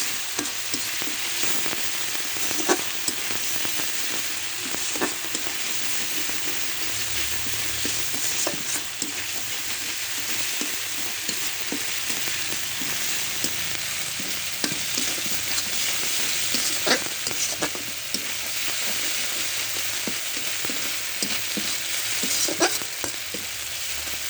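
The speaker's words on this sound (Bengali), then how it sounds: "এই মশলাটা ভালোভাবে কষে নিতে হবে।" Spice masala sautéing in hot oil in a pan for a soybean and pointed gourd bhapa, with a steady bright sizzle and frequent scraping stirs of a spoon, close and continuous throughout.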